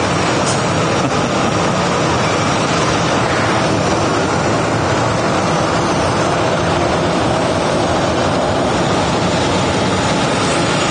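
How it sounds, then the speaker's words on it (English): An Airbus A321 taxis at Phoenix Sky Harbor Airport with only one engine running, giving a loud, continuous broadband jet roar and rush that holds steady throughout. "I think we have another A321 taxiing with only one engine lit"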